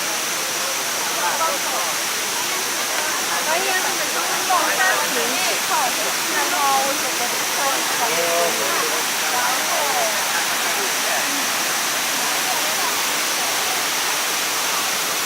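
Kuang Si waterfall near Luang Prabang, Laos roars as a dense, steady broadband rush of falling water, loud and close and unbroken, with faint voices mixed faintly into the spray.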